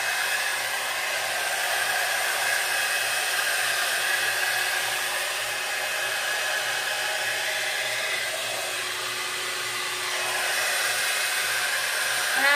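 Conair Primrose 3-in-1 styler blowing on hair, a loud, constant whooshing hum with a steady motor whine that barely changes over several seconds, close by.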